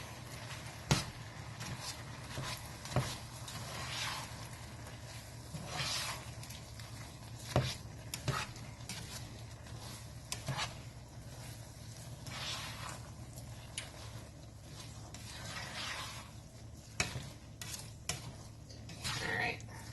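A utensil stirs vegan tofu fried rice in a pan, making steady scraping and clinking with scattered sharper taps over a constant low hum, close and moderately loud.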